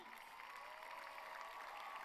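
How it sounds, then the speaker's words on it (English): A crowd applauds at a high school graduation, a faint, steady patter of many hands clapping in a large hall, heard from a distance. "you got to be clapping for them"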